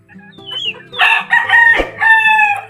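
Chickens in a backyard flock, some recently sick, with a rooster crowing loudly and repeatedly up close, drawn-out cock-a-doodle-doo calls over soft clucking and a low steady hum.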